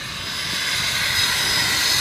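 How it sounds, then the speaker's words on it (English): A 2006 Ford F250 Lariat crew cab 4x4 turbo diesel revving, its exhaust a loud, steady broadband roar with turbo hiss that swells slightly and holds, heard close with no talking. "Let's step on the gas, let them hear the exhaust real quick,"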